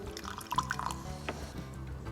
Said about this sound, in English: a small splash of soda water.